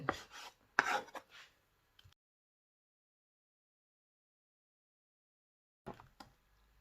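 A few quick knife chops through chicken liver on a board at the start, then a long silence before one more faint cut at the end.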